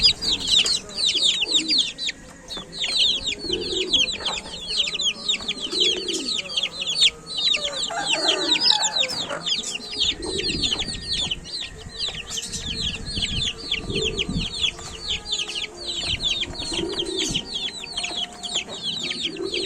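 Week-old Black Paraoakan chicks peep continuously in a dense, high-pitched chorus of overlapping chirps, with occasional softer low clucks underneath.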